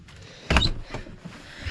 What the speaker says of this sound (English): And then just shut the door.